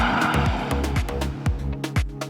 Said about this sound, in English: ESC off mode, which turns the traction control off, and it's perfect for warming up the tyres